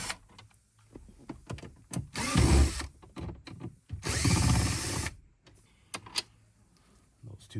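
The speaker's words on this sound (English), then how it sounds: "There's two screws up here on top. Go ahead and pull those off." Screws coming out of the dash panel of a 2012–2019 Nissan Frontier, with two loud bursts of a nearby power driver whirring a second or so each, amid handling clicks and rustles.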